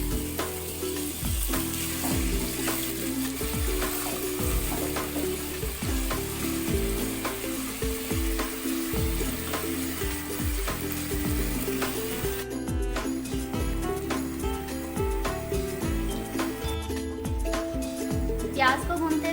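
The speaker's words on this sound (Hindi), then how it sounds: "प्याज को भूनते हुए 2 से 3 मिनट हो चुके हैं।" Sliced onions frying in hot oil in a pan for a spiced brain masala, a steady crackling sizzle with occasional stirring scrapes, heard close with a voice talking over it.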